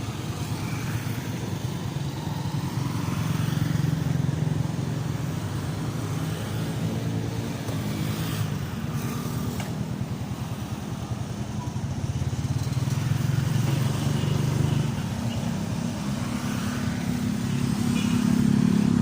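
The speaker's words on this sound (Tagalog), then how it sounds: "traffic pa traffic" Road traffic with passing cars and motorcycles, a continuous engine rumble that swells and fades as vehicles go by close to the listener.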